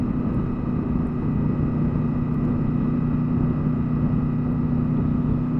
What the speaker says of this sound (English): a lovely whirring sound of the gear driven cams